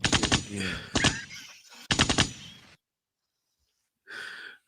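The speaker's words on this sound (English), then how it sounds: "we need some louder gunshots" Gunshot sound effects: rapid bursts of sharp, loud automatic-fire cracks in quick succession, broken by breathy gasps, then a silent gap before a shorter breathy sound at the end.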